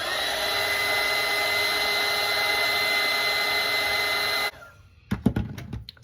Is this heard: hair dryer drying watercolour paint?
yes